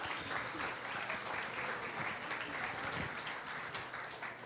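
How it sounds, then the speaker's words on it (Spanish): Sustained audience applause at a youth forum welcoming a speaker, a steady wash of many hands clapping at moderate distance, with no talking over it. "Un fuerte aplauso, por favor."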